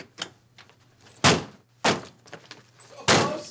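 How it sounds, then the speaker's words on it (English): A stuck door being forcefully knocked and banged on, three loud heavy thuds spaced about a second apart with fainter knocks and a low hum between them. "Don't come close to the door. I'm trying to knock it up."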